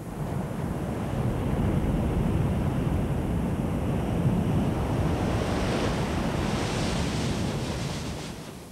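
Giant barreling ocean surf breaking in a loud, continuous roar with wind rushing across the microphone, swelling slightly and easing off at the end, with no voices.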